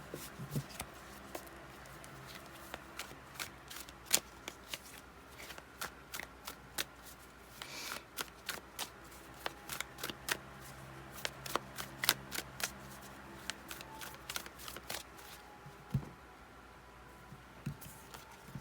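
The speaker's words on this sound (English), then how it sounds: "Shuffling on camera, thanks for your patience." A deck of tarot cards being shuffled by hand in a quiet room, with repeated crisp riffling and slapping bursts in an uneven rhythm, close and fairly soft, with no talking.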